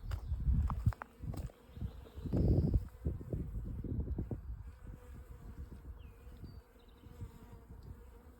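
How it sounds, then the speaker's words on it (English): Bees swarm around little white flowers beside a trail in Great Smoky Mountain National Park, a dense close buzzing that swells and fades as insects pass near, with a few soft footstep-like thumps. "there is like a million bees in here, these little white flowers"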